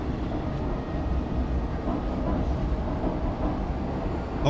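A train in the video game Stray rumbles along in a low, continuous churn of rolling wheels and engine drone, steady and unbroken.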